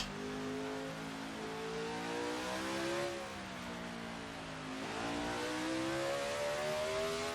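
The engine of a 1973 Matra Simca MS670 race car revs hard in a racing game at Targa Florio, rising and falling through gear changes as it climbs and descends, loud and continuous with no one talking.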